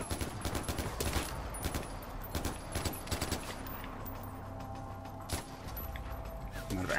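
Hostile gunfire in Far Cry 4 aimed at the player, a steady stream of sharp shots and bursts ringing out over about seven seconds, loud and close, with a few heavier blasts mixed into the barrage.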